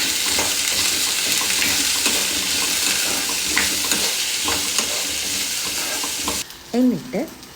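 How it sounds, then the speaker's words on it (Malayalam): Chopped okra fries in oil in a pan, a loud continuous sizzle with repeated scraping stirs, cut off near the end by a few clattering knocks against the pan. "ആദ്യം തന്നെ ഒരു ചീനച്ചട്ടിയിൽ കുറച്ച് എണ്ണ ഒഴിച്ചിട്ട് ചെറുതായി മുറിച്ച വെണ്ടക്ക നന്നായി വഴറ്റി റോസ്റ്റാക്കി എടുക്കണം"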